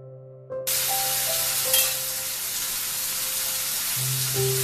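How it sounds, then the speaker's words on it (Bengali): Shrimp paturi wrapped in pumpkin leaves goes into a kadai of hot white oil, bursting into a loud sudden sizzle that then holds steady and close, with light background music and no talking. "এখন আমরা চিংড়ি পাতুরিটা রান্না করার জন্য কড়াইতে দিয়ে দিচ্ছি।"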